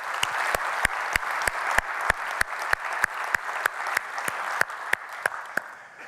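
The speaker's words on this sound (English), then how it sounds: "give an applause for all the Jamf people" An audience applauds at a conference talk, with sharp, evenly spaced claps at about three per second standing out over softer crowd clapping, tapering off at the end.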